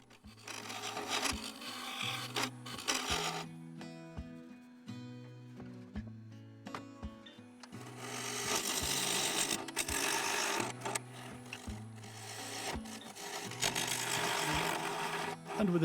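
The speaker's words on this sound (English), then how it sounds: "The bowl gouge took care of this, cutting from the top down into the base." Bowl gouge cutting down through a walnut and three-colour epoxy resin bowl on a wood lathe, removing the centre support from the top toward the base: a steady, rough, scraping cut that comes and goes in bursts over the low lathe hum.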